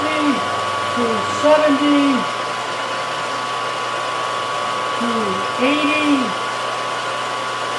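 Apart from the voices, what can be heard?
machine running with flood coolant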